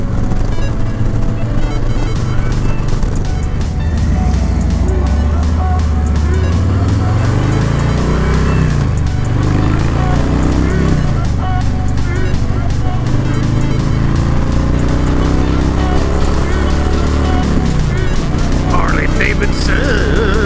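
Harley-Davidson motorcycle on a Sunday road ride, a loud steady engine drone with rising and falling revs and heavy wind rush throughout, someone briefly speaking over it.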